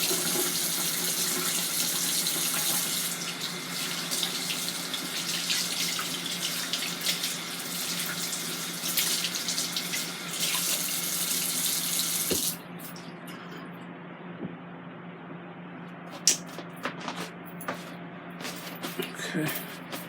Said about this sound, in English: let me wash my hands before I handle the